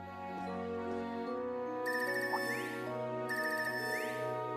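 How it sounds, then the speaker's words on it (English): A phone ringtone from the game Trails of Cold Steel III plays as a bright, repeating electronic melody with sustained chime-like tones, clear and steady throughout with no talking. "New ringtone. It's ringtone. I haven't heard this before."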